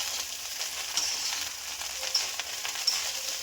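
Rice frying in a pan for homemade fried rice, giving a steady close sizzle with a few light clicks of stirring and no talking.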